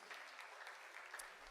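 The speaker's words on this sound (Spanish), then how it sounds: "Puedes aplaudir al Señor si tú deseas." A church congregation claps together, a dense, even patter of applause heard faintly from a distance without a break.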